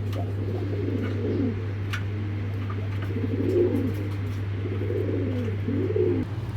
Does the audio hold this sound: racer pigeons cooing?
yes